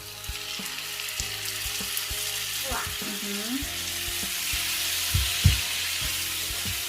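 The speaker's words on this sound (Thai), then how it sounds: "พอกระเทียมเริ่มหอมนะคะ พี่น้องจ๋าเขาก็ใส่กุ้งลงไปเจียวค่ะ" Shrimp frying in butter with garlic in a pan for Thai egg-white noodle rad na, a steady close sizzle with a few louder spatters and stirring clicks, no talk.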